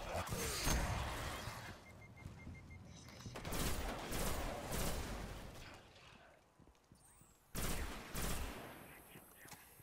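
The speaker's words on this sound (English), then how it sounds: "the fusion rifle does multiple hits" Fusion rifle fire in the video game Destiny, delivered as several loud bursts of impacts and blasts, each about a second long and separated by quieter gaps.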